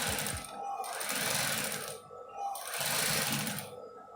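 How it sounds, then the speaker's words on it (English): Sewing machine stitching the edge of a fabric corset top, a steady close mechanical whirring run with a brief pause before starting again, no talk. "I want to start sewing now."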